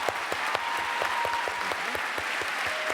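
Sustained audience applause at a closing ceremony of a television series festival, a dense steady patter of many hands clapping at even loudness throughout, with a faint voice briefly audible beneath.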